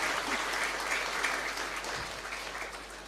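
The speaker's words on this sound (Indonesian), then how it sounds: "Oke, boleh beri tepuk tangan sekali lagi untuk Ning Sheila." An audience at an Islamic study gathering at Lirboyo gives steady applause, a dense, even clapping that fades slightly toward the end, with no talk.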